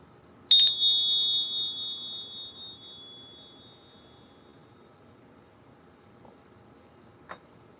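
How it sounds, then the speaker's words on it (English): Small bells are struck once, giving a bright, loud, ringing ding close by that slowly fades over several seconds in a quiet room, followed later by two faint short taps. "I'm about to ding these bells"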